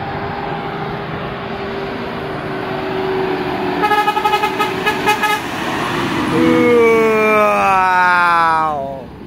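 Horn on an Indonesian truck blowing a fast series of short toots, then a long rising and falling musical horn melody, loud and close over steady engine and road noise.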